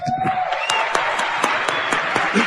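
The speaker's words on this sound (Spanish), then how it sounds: "démosles un aplauso a ellos" A live audience applauds at a talk, a thick mix of rapid claps with some crowd murmur and a faint voice underneath, steady and close throughout.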